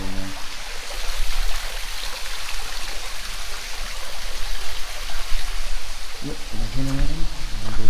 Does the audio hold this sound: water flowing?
yes